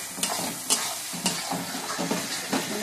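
Egg, potato and dried fish being stirred in a frying pan, a soft ongoing sizzle punctuated by a rhythmic series of scraping spatula strokes, close and without talk.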